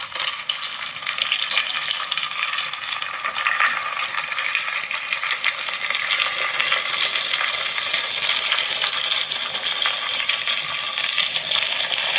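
Onion, tomato and green chilli sauté in hot oil for a fish curry, giving a steady, dense sizzle that holds evenly throughout with no pauses and no voices.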